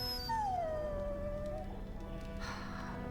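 A dog in Dragon Age: Origins gives one long, drawn-out whine that slides downward, heard alone over a steady hum of game ambience.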